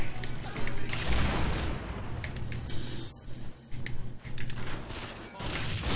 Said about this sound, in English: Shoot that because there's a explosive charge right there.